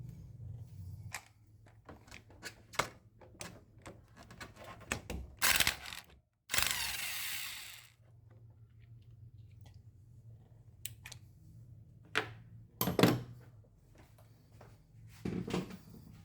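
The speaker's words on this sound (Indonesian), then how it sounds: "Kemudian buka baut ukuran 10 mm yang menahan centerpiece." A 10 mm bolt on a car AC compressor clutch is unscrewed with a tool, giving a run of close, sharp metallic clicks and ratcheting ticks, with a couple of louder rasping bursts in the middle.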